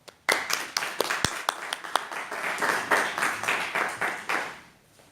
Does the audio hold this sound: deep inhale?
no